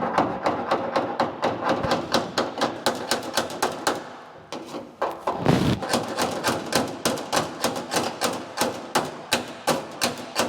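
Rapid, sharp metallic taps from a long pick hammer striking a mini truck's sheet metal against a light dolly in quick regular bursts, with a brief pause midway before the tapping resumes.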